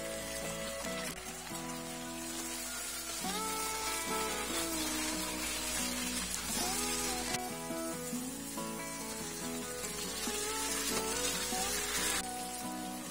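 Onions sauté with chicken in a hot pan, a continuous close sizzle and crackle that holds steady for over ten seconds, with faint background music and no talking.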